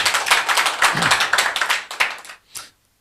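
Congregation at a church service claps together to give thanks to God, dense hand claps filling the first two and a half seconds, then a last few scattered claps before falling silent.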